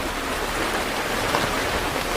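Heavy rain pours onto a campsite shelter as a dense, constant hiss that stays loud and even throughout, with no voices.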